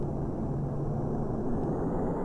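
A Boeing 747-8i flies low on approach to the runway at Kai Tak in the X-Plane 10 simulator, giving a steady, loud, continuous engine roar with no breaks or talk.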